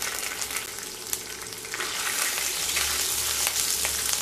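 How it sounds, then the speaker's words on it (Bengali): Coconut frying in hot mustard oil in a pan, a close, continuous crackling sizzle with occasional sharp pops and stirring scrapes, building slightly fuller over about four seconds. "তেল গরম হয়ে গেলে কিছুটা নারকেল ভেজে নেব।"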